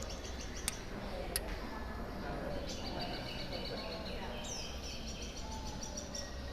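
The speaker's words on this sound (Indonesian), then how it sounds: "Ketupang calls means prosperity." Faint, sparse ketupang bird calls in Malaysian Borneo, a few short chirps and a thin whistled note, over steady dense outdoor hiss and background chatter.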